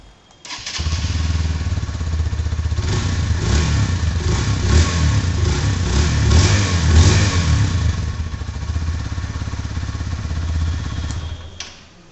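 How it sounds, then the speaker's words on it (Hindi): A 2024 Hero Xtreme 160R 4V motorcycle starts and idles close by with a sporty exhaust note, its steady engine rumble swelling through a few revs before cutting off, with no talking over it. "कि जो एग्जॉस्ट है ना गाइस काफ़ी स्पोर्टी आपको यहाँ पर देखने को मिलने वाली है"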